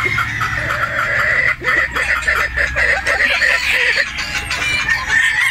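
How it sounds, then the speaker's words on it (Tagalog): Boston Roundhead gamefowl cluck and cackle nearby in short, uneven bursts with a brief dip partway through, over a low background hum and no clear speech. "Yan ang mga Boston Roundhead po ulit natin."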